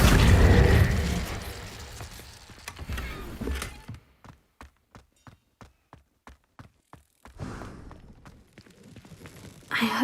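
Spell effects in the video game Hogwarts Legacy: a loud fiery burst and booms, then a run of evenly spaced sharp mechanical ticks in near silence, followed by another swelling magical whoosh and impact.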